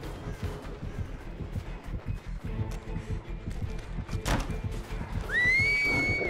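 A rising whistle from a character in the horror video game Dead by Daylight, cutting in near the end over busy game sounds with hoofbeat-like thumps and a horse whinny.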